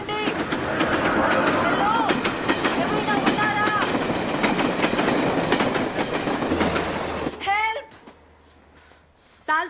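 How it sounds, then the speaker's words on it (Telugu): A train rolls past on railway tracks in a Telugu thriller film, a loud steady rumble with rhythmic clicks and squeals, with bird calls above it, then it fades abruptly near the end. "మళ్ళీ ట్రైన్ రావడానికి గంట పడుతుంది"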